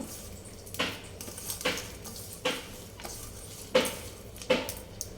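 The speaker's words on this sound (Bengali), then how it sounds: "এখন সব উপকরণ একসাথে মিশিয়ে নিব। সরিষার তেল দিব সামান্য" Mashed ingredients for an eggplant bhorta, including dried chili squeezed with salt, being mixed together with a little mustard oil; soft, wet squelching and scraping strokes come in about six quiet bursts, with no talking.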